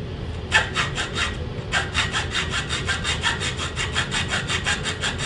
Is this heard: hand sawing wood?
yes